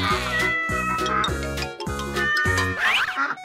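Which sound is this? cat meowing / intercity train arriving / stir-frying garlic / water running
cat meowing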